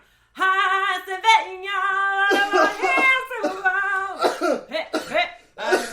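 A man in a podcast setting makes a long, voiced, strained rasping sound with rough breathy bursts that run almost without break, loud and close.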